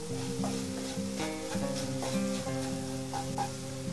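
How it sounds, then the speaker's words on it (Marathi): Methamba mixture of raw mango frying in a pan with Kashmiri red chili powder, a steady close sizzle with stirring scrapes over a sustained tonal hum, no talking. "मी आता हे छान असं फ्राय करूया अजून एकदा।"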